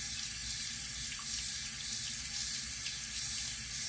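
Water runs steadily from a bathroom sink faucet, a constant close hiss and splash with no talking throughout.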